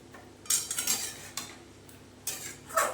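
Chicken stew ingredients, onions among them, stirred in a pot: a run of metallic spoon scrapes and clinks against the pot, several quick strokes close together, then isolated clanks, fairly close with no speech.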